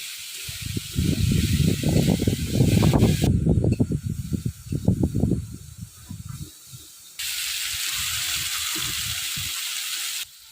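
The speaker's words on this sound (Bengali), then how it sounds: "এবার আমি গ্রেভিটা সুন্দর করে কষাবো।" Spiced paneer gravy frying in a hot pan, loud crackling sizzle with bursts of spitting that ease off, then a steadier hiss near the end, close and without talk.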